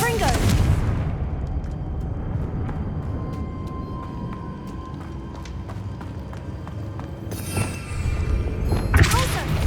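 Confringo fire spell blasts in the video game Hogwarts Legacy: a heavy explosive burst opens, then a rumbling stretch with thuds, and a second pair of loud blasts erupts near the end.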